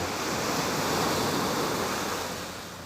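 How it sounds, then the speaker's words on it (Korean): Gentle, calm sea waves wash onto Jumunjin's Yeongjin beach, a steady broadband surf wash filling the whole stretch with a slight swell and fade, with some wind noise and no talking. "파도가 그렇게 뭐 세지도 않고 잔잔하고 좋네요"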